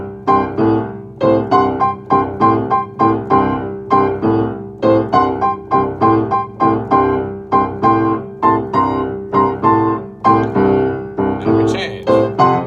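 A 12-bar blues progression strummed on guitar with a steady, loping rhythm, each chord attack clearly spaced, building through the changes to a closing turnaround figure.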